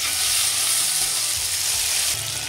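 Chopped tomatoes and green chillies sizzle steadily in a hot pan for a fish curry with chubri potatoes, a loud continuous frying hiss with no talk.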